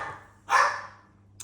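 A dog gives a single short bark mid-range in a home kitchen, loud and close, with a second brief bark starting at the end; no talk over it.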